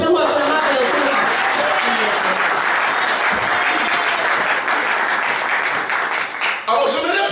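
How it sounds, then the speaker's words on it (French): A church congregation at a sabbath service applauds and cheers loudly and steadily, the clapping sustained throughout with voices mixed in and a brief dip near the end. "Est-ce qu'on peut acclamer encore?"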